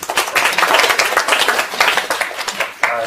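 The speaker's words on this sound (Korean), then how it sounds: "큰 박수로 환영해 주시기 바랍니다." A seminar audience claps in welcome, a lively burst of many hands with quick uneven slaps, loud and close, that tapers off near the end.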